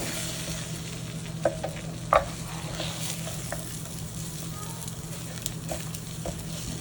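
A burger cooking in a Little Mac Fast Cooker gives a low steady sizzle, broken by a couple of sharp spatula scrapes and taps, with a faint hum beneath.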